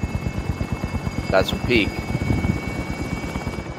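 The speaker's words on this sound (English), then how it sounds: "Enemy chopper is coming." A helicopter in Call of Duty Warzone keeps up a steady rotor thump under gameplay, with a player talking over it and a few short electronic game cues breaking through.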